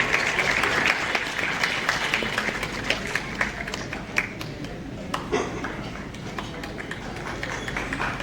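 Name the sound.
loud applause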